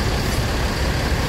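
A Hino Euro 4 Rosalia Indah bus idles at close range in a parking area, a steady loud broadband engine rumble with no breaks and no talk over it.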